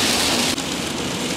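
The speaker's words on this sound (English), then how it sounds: "God, look at this rain!" Heavy rain falls in Llanrwst, Wales, making a dense, steady hiss that fills the whole clip at close range with no voices.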